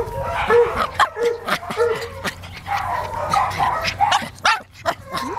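Dachshund and Jack Russell terrier puppies yip and bark excitedly in quick, overlapping bursts with small whimpers, close by, while people talk softly in the background.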